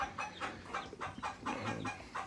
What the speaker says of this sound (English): White Rocks, is your little white chickens right there